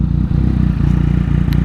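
A 2018 Yamaha MT-09 SP motorcycle, stock with its fitted aftermarket exhaust, idles with a loud, steady low burble and rhythmic throbbing pulses, close by and uninterrupted.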